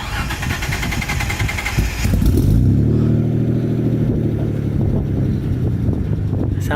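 Mitsubishi GTO/3000GT engine through a new 3-inch single-exit exhaust, a noisy rush that drops into a steady rumbling idle from about two and a half seconds, heard up close with no talk.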